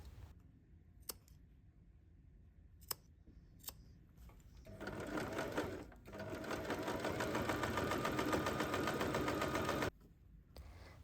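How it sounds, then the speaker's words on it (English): A handbag is sewn around its curved edge on a sewing machine: a few sharp clicks and ticks first, then a long, steady close whir of rapid stitching with a short pause midway, stopping abruptly near the end. "we are going to sew all the way through the curve area"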